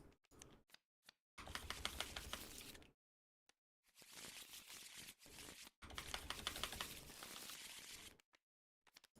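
Card deck being shuffled in the Tabletop Simulator video game, several quick crisp riffling bursts of fast clicking separated by short silences, quiet and close.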